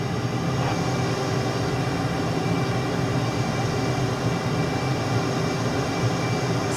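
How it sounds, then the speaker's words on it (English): A jet in Microsoft Flight Simulator produces a steady, dense engine roar and airflow drone that stays loud and unchanging throughout, with no talk. "Now return the jet to straight and level."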